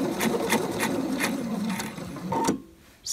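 A sewing machine stitches a long vest with a shawl collar in a steady run of rapid needle strokes, slowing and halting with the needle down near the end, close and clear with no talking.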